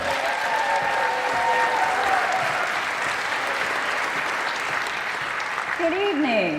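An audience claps for a performer before her song, a steady, dense wash of applause filling the room the whole time, with a voice and some tonal sounds breaking through near the end.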